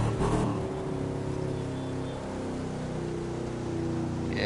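A car engine revs in a racing video game, a continuous loud droning roar that rises and falls over a few seconds, with no speech over it.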